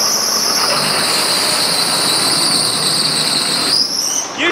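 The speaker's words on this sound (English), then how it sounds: "You should fix that squealing noise." A machine on a Ford gives off a steady high-pitched squeal that holds for several seconds under broad mechanical noise, then shifts in pitch near the end; no one speaks.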